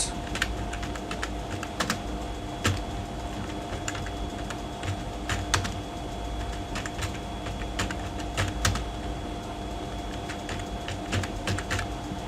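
Fingers tap away at a computer keyboard in a steady run of light, close clicks with short pauses, recorded while drafting a dungaree sewing pattern on screen, with no talking.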